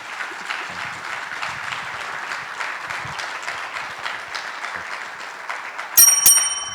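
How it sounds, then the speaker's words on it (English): Steady applause fills most of the stretch, then a bright bell rings out near the end, struck twice, loud and ringing over the crowd. "there's the second bell."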